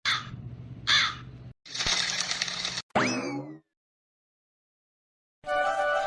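Crows caw in a village, harsh calls in a few separate bursts, loud and near, with gaps of silence between and another burst of noise at the end.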